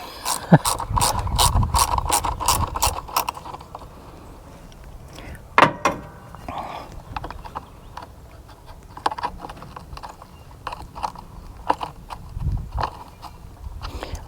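A hand ratchet removing 10 millimeter bolts on a John Deere Z225 riding mower, with quick bursts of sharp clicking pawl strokes, close and loud, alternating with scattered clanks and quieter pauses.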